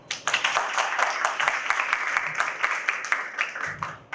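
Audience applause at a Spanish-language electoral panel discussion, a steady wash of clapping from a gathered crowd lasting several seconds, fairly even and moderately loud before tapering off at the end.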